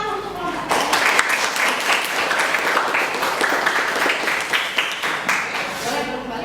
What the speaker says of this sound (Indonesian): Kita tepuk tangan untuk kelompok.